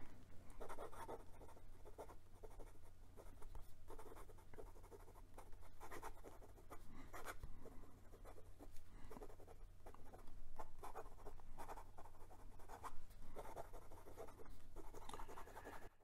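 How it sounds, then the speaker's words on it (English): A Wing Sung 601A fountain pen writes quickly on paper, producing faint, close scratchy strokes in quick irregular bursts against a quiet background. "And for some quick writing"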